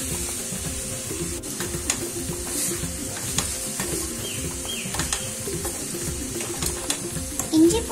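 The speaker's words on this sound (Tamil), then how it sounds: "இஞ்சி பூண்டு பேஸ்டோடைய பச்சை வாசனை போற வரைக்கும் வதக்கிக்கலாம்." Onion with ginger-garlic paste sautés in a pan, giving a low sizzle broken by repeated scraping, clacking stirs from a spatula and an occasional sharper knock near the end. No one speaks.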